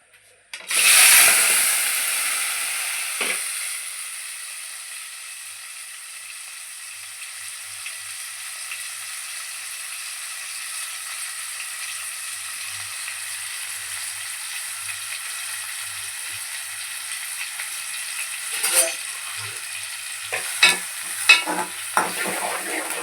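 Tomato, onion, green chillies and curry leaves go into a hot oiled pan for a meat curry, setting off a loud burst of sizzling that settles into a steady close hiss, with a few utensil clinks near the end.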